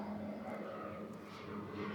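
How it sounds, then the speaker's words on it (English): A propeller plane drones overhead while people record indoors, a steady, muffled engine rumble with no clear rise or fall. "just like this plane flying by while we're recording"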